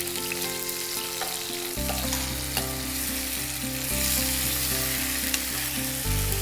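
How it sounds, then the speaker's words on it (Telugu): Chicken leg pieces shaped into lollipops frying in a pan, a steady crackling sizzle with a few light stirring taps over a continuous low hum. "వాటిని యాడ్ చేసుకొని బాగా ఫ్రై చేసుకోవాలి"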